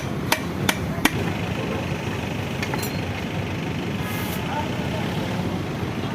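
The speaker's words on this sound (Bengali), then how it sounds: "হাতুর দিয়ে মার, বোল্ট ওটাতে মার" A hammer strikes a bolt during repair of a Pulsar 220 cc motorcycle's head top cover: three sharp metallic knocks in quick succession near the start, then fainter taps, over a busy background with voices talking.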